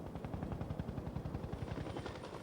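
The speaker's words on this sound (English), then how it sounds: "the helicopter passes directly over the derelict farmhouse" A low-flying helicopter's rotor thumps in a fast, steady rhythm, low and muffled, as if passing at some distance over a derelict farmhouse in a forest.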